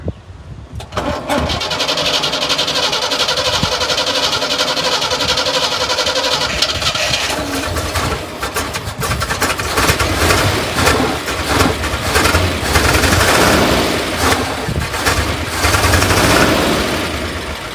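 A 1976 Squarebody truck engine, unused for 20 years, cranks, catches and roars to life, then keeps running loudly and roughly, close by and continuous.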